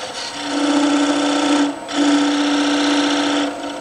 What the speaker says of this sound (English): I could use this as a scraping tool, totally horizontal.